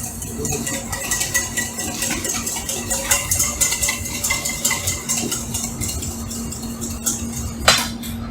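Mayonnaise ingredients mixed together in a pot, sounding as a steady run of quick metallic clinks and scrapes from a utensil against the pot over a low continuous background hum.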